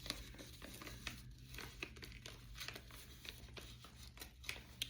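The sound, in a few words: package being torn open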